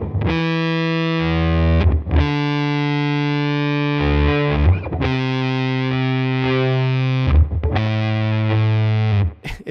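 Mythos Pedals Hephaestus variable-voltage fuzz pedal on electric guitar: four long, loud sustained distorted notes separated by short breaks, each decaying into an octave jump and a wobbly warble.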